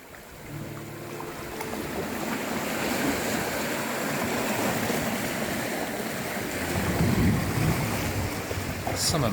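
Ocean waves wash against the rocky Cornwall coast in a continuous broad roar, with wind buffeting the microphone and a surge building louder toward the end.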